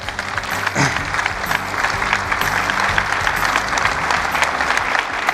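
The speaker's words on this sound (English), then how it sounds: "can we just give all 4 of our speakers one more round of applause?" A conference keynote audience claps steadily, a full room of hands applauding continuously at a strong, even level throughout.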